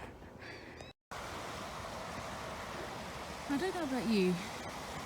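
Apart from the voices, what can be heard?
running water flowing over rocks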